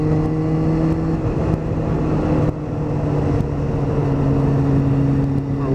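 A Kawasaki ZZR600 motorcycle engine, chain drive, runs loud and close with steady harmonic drone, throttle rising and settling over several seconds with no voices.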